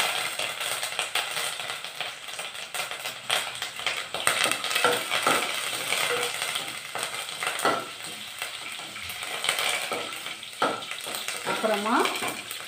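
Curry leaves sizzle and crackle loudly in hot oil in a pan while a bread masala dosa is being prepared, with steady frying hiss, a few utensil clinks and spatula scrapes throughout.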